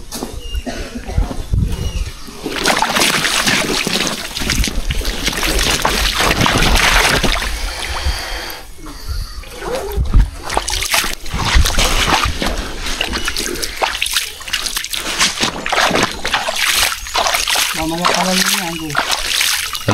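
Water splashes and sloshes continuously as a king cobra is placed in water to cool off on a hot day, with people talking throughout.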